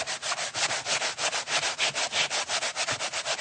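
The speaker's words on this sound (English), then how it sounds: "And then I'm going to use my sanding block" Close, steady back-and-forth rubbing of a sanding block on wood, a rapid rhythmic scratchy rubbing that continues without pause and with no voices.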